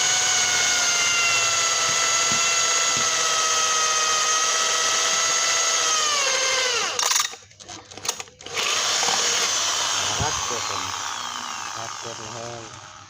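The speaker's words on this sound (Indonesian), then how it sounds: "Sekarang kita lanjut lubangin ya guys ya." A power drill bores a hole for a 12 mm bolt in the rear disc brake mount of a Yamaha Byson motorcycle, a loud steady whine that dips and cuts out briefly midway before spinning up again and fading near the end.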